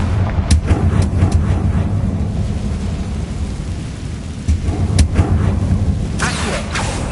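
In Hogwarts Legacy, a Confringo blasting spell bursts into several sharp, booming explosions over a low rumble. The blasts come in scattered, irregular hits across the stretch.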